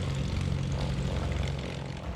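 A de Havilland Mosquito propeller aircraft roars with a dense, steady engine drone, loud and close, as it takes off and climbs.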